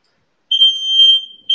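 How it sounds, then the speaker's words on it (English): A smoke-style fire alarm sounds alone in a quiet indoor room, giving shrill, high-pitched electronic beeps: two sustained tones and then the start of a third. "Someone set the fire alarm off."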